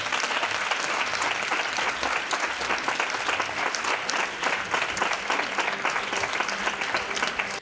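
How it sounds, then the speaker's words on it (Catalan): A crowd gives loud, sustained applause in farewell to a departing festival representative at a local event in Riba-roja, dense clapping throughout until it stops abruptly. "Sols queda despedir-te en este fort aplaudiment per tot este any."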